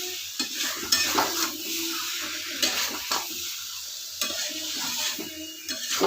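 Chickpea and pumpkin chakka frying in a pan while sugar is stirred in, with a steady sizzle under repeated scraping and clinking stirs of a utensil against the pan, close and continuous.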